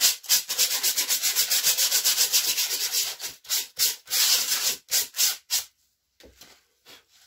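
Fine grit sandpaper rubbed over the top of a hardened expanding foam hill for tabletop gaming terrain, a loud close rhythmic back-and-forth scratching in quick even strokes that slows into separate passes and then stops.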